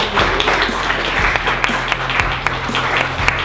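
A room of guests at an appreciation party applauds for Sandy, dense steady clapping close by with a few sharper individual claps standing out, a low hum underneath.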